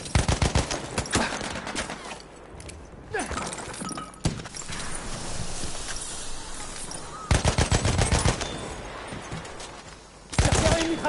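Rapid machine-gun bursts and single shots from Battlefield 1 gameplay are loud and close. Clattering hoofbeats and a horse whinny come through between the bursts over busy battlefield noise, and a player talks at times.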